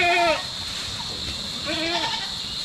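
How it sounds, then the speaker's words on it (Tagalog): Goats bleating on a farm, two short wavering bleats near the start and end of the clip with a steady high hiss of background noise between them. "Yan po ang ating mga kambing dito, oh."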